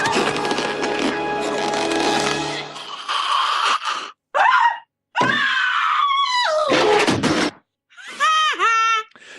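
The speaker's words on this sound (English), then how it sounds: "Definitely had to include Martin's little scream there because it's really intense." A cartoon boy from The Simpsons Treehouse of Horror VI screams and wails in long, intense, pitch-sliding cries, loud and close, broken by short gaps and preceded by a noisy scene.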